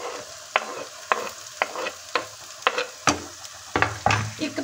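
Ginger and onions sizzle in a pan for moong masoor dal while being stirred, a steady frying hiss punctuated by regular scraping strokes of the spoon, close and moderately loud.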